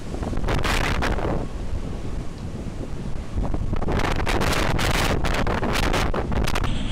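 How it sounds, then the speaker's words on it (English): North Sea storm waves strike an offshore oil platform amid howling wind, a continuous loud rush of wind noise and surging water with repeated buffeting gusts. "Again, the waves are hitting the bottom of the top side, so the waves here must be at least 21 meters high."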